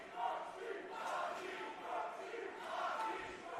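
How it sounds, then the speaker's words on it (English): A wrestling crowd in the carousel room roars and chants in steady swelling waves, a dense wash of many voices cheering at moderate distance without a break. "You can hear the crowd here in the carousel room seems pretty divided."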